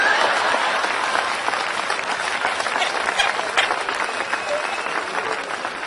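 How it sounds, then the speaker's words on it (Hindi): An audience at a live Hindi comedy show breaks into steady applause, a dense wash of clapping that holds fairly loud and even for several seconds with no talking over it. "बात अच्छी लगे तो आप तालियां जरा बजा दिया करो।"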